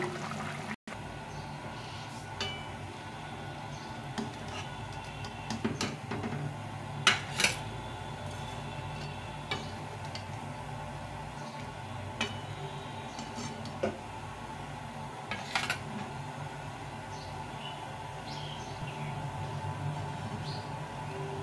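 A pot of rui fish curry with cauliflower and potato taken off a kitchen stove, with faint, sparse clinks and knocks of metal cookware over a low steady hum, and no talking.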